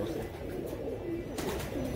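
Soft, low pigeon cooing murmurs steadily throughout, a continuous throaty burble from several Chandarkhani pigeons nearby.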